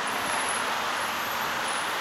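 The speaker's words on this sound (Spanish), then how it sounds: "aquí hay un montón de tráfico" Dense, continuous roar of heavy road traffic in Croatia, a broad steady wash of passing vehicles with no gaps and no individual cars standing out.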